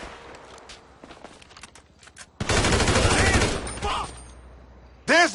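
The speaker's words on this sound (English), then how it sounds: "They got me pinned down, shoot that gas can." Bursts of gunfire in the video game Grand Theft Auto V, a loud rapid fusillade in the middle with a sharp burst near the end, after quieter footsteps and game sounds.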